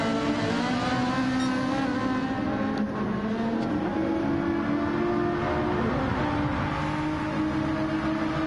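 A Ferrari race car in Gran Turismo 7 at Brands Hatch holds a steady, loud engine drone with a sustained tonal pitch that shifts slightly as it accelerates, running continuously without talk.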